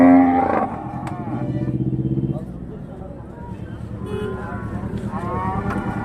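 Cattle at the Kuntharapalli cattle market in Krishnagiri moo in several long, deep calls, one after another, close and fairly loud, with people talking and market bustle around them.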